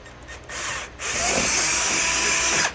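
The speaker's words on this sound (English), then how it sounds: "we're using a 1/4 inch bit to drill that out" A power drill fitted with a 1/4 inch bit bores a hole while installing a hidden front-mount trailer hitch, revving up in two close, loud bursts after a brief start, whining steadily until it stops.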